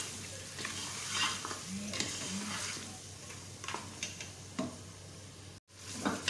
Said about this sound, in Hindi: गोश्त हमारा अच्छी तरह से भून गया है।